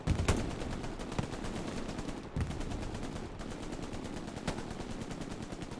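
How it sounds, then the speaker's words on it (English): Gunfire exchanges in the Hell Let Loose video game, a steady rapid rattle of machine-gun bursts mixed with sharper individual shots, continuous and dense throughout with a few louder cracks standing out. "Shots going back and forth, no one connecting."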